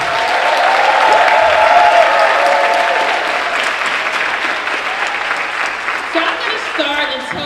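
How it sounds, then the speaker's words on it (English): Loud cheering and applause from a crowd at a 2025 graduation ceremony for a special services school district, sustained and full at first, then tapering off as a voice begins speaking near the end. "Let's cheer for the graduating class of 2025."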